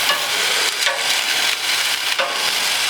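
Beer brats sizzle steadily on a hot grill, a constant close crackle with a few faint scrapes and bumps as they are turned.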